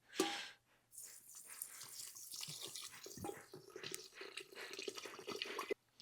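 Faint trickle and drip of alcohol passing slowly through a carbon filter during distilling, a steady soft liquid patter close by and quiet, with no talk.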